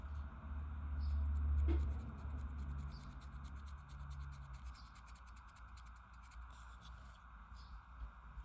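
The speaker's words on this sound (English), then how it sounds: "With the lead belcher, we're going to rub this across the sword and other minor parts of the model." Lead Belcher paint is dry-brushed across the sword and small parts of a Blood Angels Captain miniature, giving soft, faint, close scratchy rubbing strokes over a quiet hiss.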